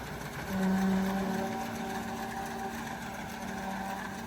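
Large farm forage machine, nearly double a tractor's height, running in a Canadian field and making green fodder for cattle, a continuous droning engine hum with a steady tonal whine, fairly loud and unbroken.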